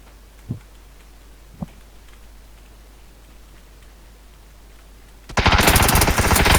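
PUBG gunfire: two faint, distant single shots thud a second apart over low background noise, then a sudden, loud, dense burst of rapid fire takes over to the end.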